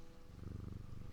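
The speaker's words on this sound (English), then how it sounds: "That's the cat." A cat purrs close by, a steady low rumbling purr that pulses rhythmically for just over a second with no other sounds.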